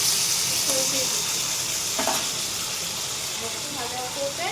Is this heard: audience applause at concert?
no